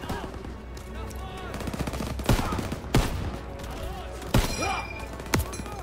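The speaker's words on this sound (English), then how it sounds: "MGs are tearing us up!" Machine gun fire in the World War II shooter Call of Duty WW2: rapid rattling bursts mixed with heavy booming shots and sharp impacts, loud and close amid battle noise and shouted voices.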